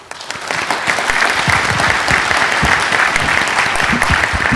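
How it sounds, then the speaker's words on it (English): An audience at an aviation security conference session claps for the panelists, a dense, lively round of applause that builds quickly and holds steady and fairly close, with no voices over it. "I need to give a round of applause to our panelists"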